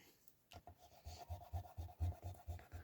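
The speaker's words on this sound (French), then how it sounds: "Ensuite, on va gommer." An eraser rubs out pencil marks on a 200-gram scrapbooking card in quick, rhythmic back-and-forth strokes, about ten soft scrubbing passes heard up close with no talking.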